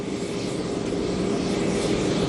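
An airplane carrying Pope Francis lands in Indonesia, its engines producing a continuous loud roar that holds steady without pause and without speech over it.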